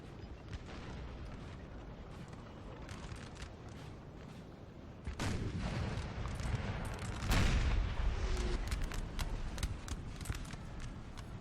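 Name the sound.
artillery fire in Napoleon: Total War video game battle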